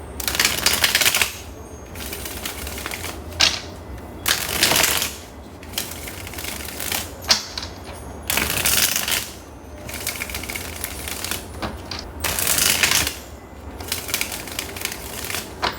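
Tarot cards being shuffled by hand in repeated loud, rustling bursts separated by short pauses, close up and with no voice.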